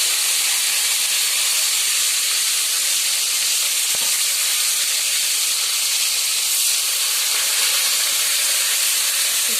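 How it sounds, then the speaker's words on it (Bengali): Spices sizzle and fry steadily in a hot pan for a dish of kakrol fritters in gravy, a dense continuous hiss with a faint scrape or stir partway through and no talking. "চলো মশলাটা ঘেটে আগে ভেজে নিই"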